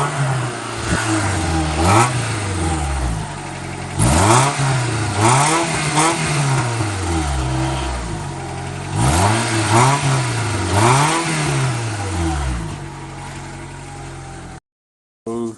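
A Honda Accord engine with a replaced muffler revs repeatedly, each rev rising and falling in pitch in a series of roughly five throttle blips, loud and close with no talk.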